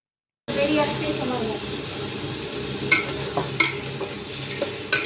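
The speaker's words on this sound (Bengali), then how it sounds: "এবার চিকেনটা একটু ভালো করে ভেজে নেব" Chicken pieces sizzle and fry with reddened onions in a pot for biryani, a steady close hiss with occasional sharp clinks of a utensil against the pot.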